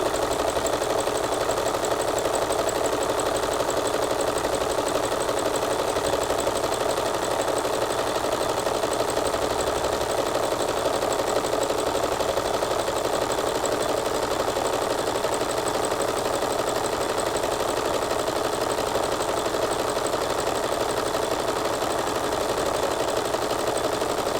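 A sewing machine runs continuously while stitching embroidery fill, moving back and forth in a steady, even mechanical hum and whir that is moderately quiet and uninterrupted throughout.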